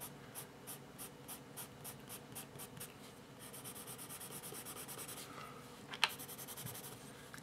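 A charcoal pencil sketching on paper, with quick repeated scratchy strokes in a steady rhythm, then a longer continuous rub and a sharper scrape near the end, close and quiet with no talking.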